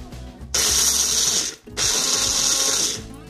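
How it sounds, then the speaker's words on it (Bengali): A grinder coarsely grinds cooled roasted garlic and other chutney ingredients in two loud, steady whirring bursts, separated by a brief pause. "এটাকে এবার আমি একটু কোর্সলি গ্রাইন্ড করে নেব"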